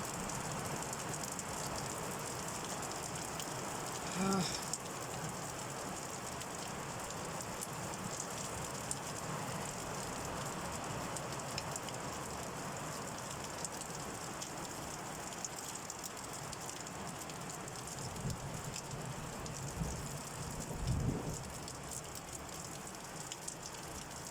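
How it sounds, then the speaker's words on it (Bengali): Heavy rain falls steadily as a dense, even hiss over the whole stretch, with a couple of louder knocks or splashes, and no voices heard. "কি বৃষ্টি শুরু হয়েছে মাশাআল্লাহ।"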